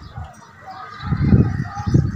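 Pigeons in a loft let out a couple of low, soft calls in quick succession, close by and moderately quiet against faint background noise.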